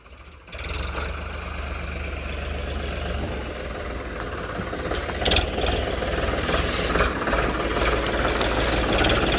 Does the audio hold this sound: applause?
no